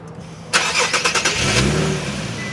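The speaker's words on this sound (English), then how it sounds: "Let's turn on this particular car." A 2014 Infiniti Q60 IPL engine cranks with a few quick pulses, catches, and settles into a rising, rough idle, close by.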